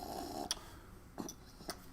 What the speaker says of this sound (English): He kind of purrs like a cat.